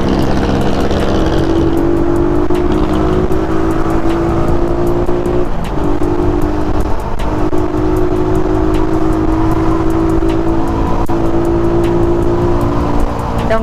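A 2018 Suzuki Raider 150 carb motorcycle engine brakes on a road ride from Bacoor to Silang, Cavite, its loud engine note falling and rising in waves over heavy wind rush.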